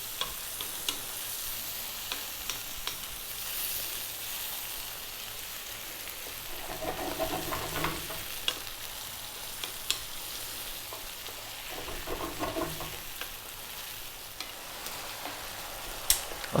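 Fish in black bean sauce stir-fried over high heat, a steady close sizzle with scattered ticks and scraping stirs, swelling louder in two bursts, no talking.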